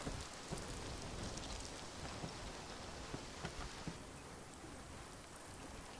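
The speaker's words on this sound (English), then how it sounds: "The rain is finally here." Steady rain falls in the Arma 3 survival game, a soft continuous hiss with scattered faint droplet taps and no voices.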